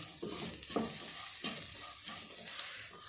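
Salt stirred into an aloo green peas curry in a pan, with a soft continuous sizzle and a slow series of scraping strokes about every half-second to second, close but fairly quiet, with no talk.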